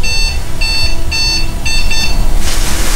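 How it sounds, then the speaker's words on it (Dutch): A loud electronic alarm beeps in rapid repeated bursts of high tones inside an abandoned house, with steady background hiss. "Nu heb je het alarm ingeschakeld."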